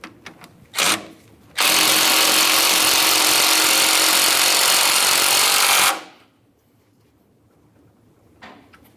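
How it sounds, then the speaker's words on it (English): Power tool snugging front shock mounting bolts on a 2006-2012 Ford Fusion, one loud sustained whir of about four seconds, close up, with brief clicks before and after. "so we can continue on to snugging and torquing these mounting bolts."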